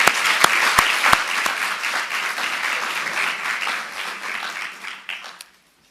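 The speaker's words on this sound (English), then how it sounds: "I think you need a round of applause for that." Audience applause at a health sciences faculty research day, a dense steady clapping with a few sharp nearby claps at the start, holding for about five seconds before dying away to silence.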